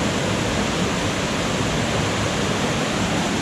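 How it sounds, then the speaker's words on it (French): Grande Cascade on the Corne du Diable hike in New Caledonia, swollen after heavy rain, pours in a dense, unbroken roar that sounds near and loud from start to finish. "Magnifique la cascade."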